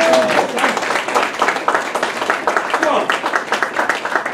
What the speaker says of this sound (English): let's give a round of applause for Prophet over Jew Ali